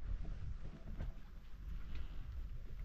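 Light wind of about eight knots under a rain squall in the middle of the ocean, blowing around a sailboat as a low, steady rumble with soft gusty fluctuations and faint splashes.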